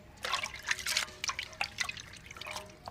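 Cleaned pirandai (adamant creeper) stems being rinsed by hand in water, with irregular splashes, drips and trickles close by and no talk.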